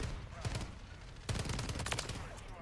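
Gunfire from an STG-44 assault rifle in Modern Warfare 3, heard as a couple of short bursts of sharp shots, fairly distant and muffled, with the denser burst in the second half.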